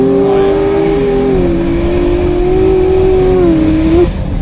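Ford GT hypercar engine droning steadily at high revs while doing donuts, a loud continuous exhaust note with slight pitch wavering, then easing off near the end, with no talking.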